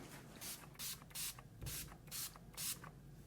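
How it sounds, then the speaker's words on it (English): Short, close bursts of makeup setting spray hiss out as a fine mist in a regular rhythm, about six quick pumps with brief pauses between them. "it feels wonderful as you spray it on."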